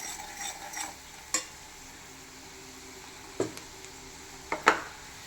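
A spoon stirring fish pickle mixture in a pan, with soft scraping and several sharp clinks of metal against the pan, over a faint background sizzle.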